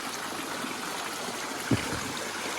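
Water poured outdoors to fill a container gives a steady, close trickling rush throughout, with one brief dull knock near the end.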